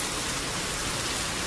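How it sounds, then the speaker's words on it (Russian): Heavy rain pours down in large drops at the Seychelles airport, a steady, dense hiss with no pauses. "Все льет огромнейшими каплями."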